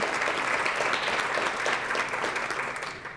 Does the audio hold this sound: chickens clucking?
no